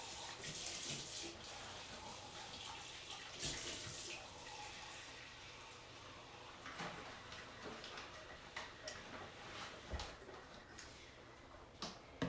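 Faint, steady running water from a kitchen tap streams throughout, with occasional soft clinks and taps nearby.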